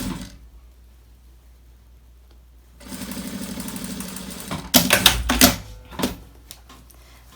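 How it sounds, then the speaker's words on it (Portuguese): A sewing machine stitching a fabric toiletry bag, starting after a quiet pause with a fast steady mechanical whirr, then louder bursts and stops as the stitching runs in short spurts. "ou pode fechar direto na máquina de costura"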